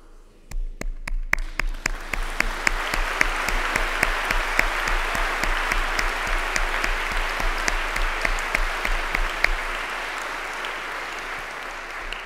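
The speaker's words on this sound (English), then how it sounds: "we also have here the chance to applaud the class of 2000" An audience claps for an incoming law school class, a dense burst of applause that starts abruptly, holds steady and full for about nine seconds, then thins out toward the end.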